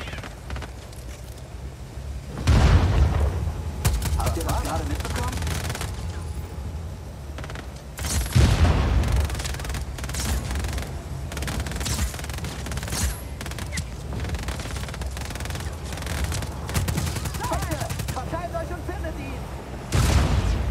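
Explosions and bursts of gunfire in the open-world action game Just Cause 4, with loud booms near 2.5 and 8.5 seconds and rattling shots throughout, while a voice talks over the combat.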